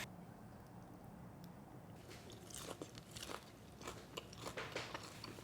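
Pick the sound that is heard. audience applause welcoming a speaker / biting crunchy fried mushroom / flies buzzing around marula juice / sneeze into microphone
biting crunchy fried mushroom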